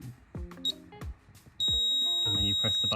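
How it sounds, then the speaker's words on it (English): Wise box smart switch beeping after its button is pressed, a sustained electronic tone that starts partway through and holds steady, following several short knocks and handling clicks, with a person talking faintly. "then you press the button, it'll make that beep"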